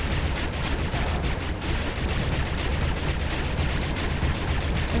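Missiles and guns fire at a smuggler ship in the space combat of SWTOR, a rapid, steady stream of repeated shots and blasts running without pause at a consistently loud level.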